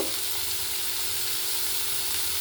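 Tomato, potato and eggplant with ground spices fry in a pan, giving a dense, even sizzle that holds steadily throughout.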